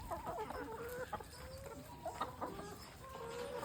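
Several chickens cluck and chatter nearby in short, uneven bursts, with soft background noise and no talking.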